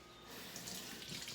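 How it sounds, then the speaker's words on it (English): Hot water runs from a tap into a sink while a Silhouette cutting mat is being cleaned: a short, steady, soft rushing splash with no pauses. "and just a little bit of hot water"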